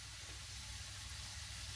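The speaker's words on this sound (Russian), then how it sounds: "выкладываем ее на сковородку." Breaded liver fries in hot oil in a pan, a steady, soft, broad sizzling hiss that continues unbroken with no voices.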